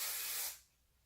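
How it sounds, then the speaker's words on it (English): Smooth and Seal shine spray hisses from the bottle onto hair in a single close, steady burst lasting about half a second, then cuts off into quiet. "It's not a hairspray, it's just a shine spray."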